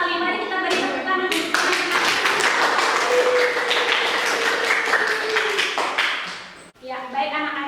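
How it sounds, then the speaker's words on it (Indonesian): Applause from a classroom of children, a dense, steady clatter of many hands clapping close by for about six seconds before it breaks off, with a few scattered claps and voices trailing after. "Mari kita beri tepuk tangan"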